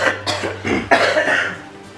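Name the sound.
cough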